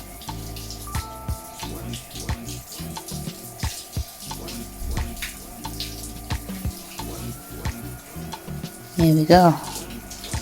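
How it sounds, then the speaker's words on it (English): Shower water runs steadily while hair is saturated during a wash routine, a continuous splashing hiss with uneven bursts, under a speaking voice and short humming near the end. "I just go back under the shower, make sure my hair is really, really well saturated all the way down to my roots"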